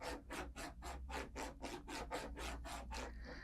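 A FoxAlien XE-Pro CNC spindle being trammed, giving an even, rhythmic rubbing rasp that repeats about eleven times at a steady pace, faint and close.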